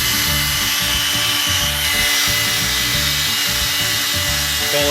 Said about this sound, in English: pick up the drill